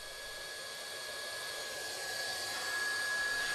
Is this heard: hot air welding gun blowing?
yes